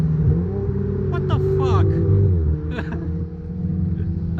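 Ferraris and Formula 3 or BMW race cars pass on a circuit, a steady engine rumble swelling and fading under a man's nearby chatter.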